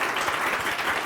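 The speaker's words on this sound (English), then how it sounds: "Give him an applause for Hiroshi Ishii." Brief, dense audience applause at a lecture at the MIT Media Lab, a steady wash of many hands clapping at moderate loudness.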